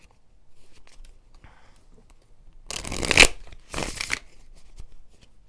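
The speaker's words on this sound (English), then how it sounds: "Let's do some more shuffles here" Tarot cards shuffled during a reading, two brisk riffling bursts close to the mic, preceded by quiet handling and soft rustles.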